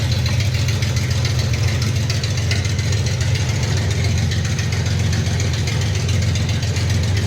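A 1977 Datsun 280Z with a rebuilt L30 engine running steadily with a wheel spinning, a close, loud, even drone with a deep low hum and constant rapid ticking texture, no pauses.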